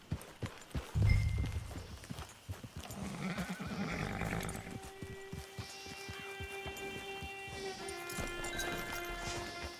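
A horse in the Red Dead Redemption video game whinnies in a long rising and falling neigh, preceded and accompanied by steady clip-clop of hooves and brief rustling, fairly close.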